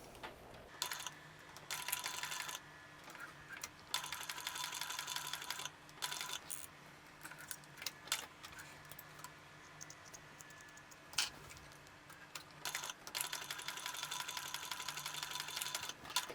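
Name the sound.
sewing machine top stitching a wristlet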